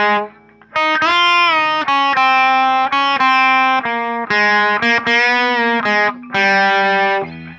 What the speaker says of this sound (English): Now this is the solo, which has that distortion sound again.